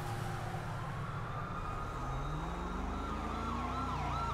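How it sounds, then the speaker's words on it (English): Emergency vehicle sirens wail in the distance, faint rising and falling tones over steady traffic and engine noise. "I hear the sirens, though."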